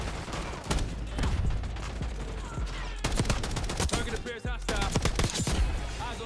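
Feng 82 gunfire in Black Ops 6, loud rapid bursts of shots repeating across the clip with dense game action and brief pauses, a voice talking faintly underneath.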